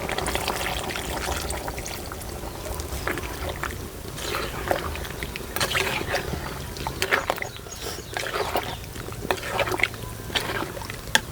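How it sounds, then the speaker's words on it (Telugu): A small glass of water poured into a pan of raw prawn and green mango curry, Godavari style, giving a steady splashing gush with some clatter, fairly close and with no talking. "ఇలా బాగా కలిపేసుకున్నాక ఒక చిన్న గ్లాసు నీళ్ళు పోసుకుందామండి"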